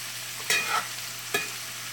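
Big sweet yellow onions fry in a pan for a breakfast sausage hash, a low steady sizzle broken by two sharp stirring scrapes, close and without talk.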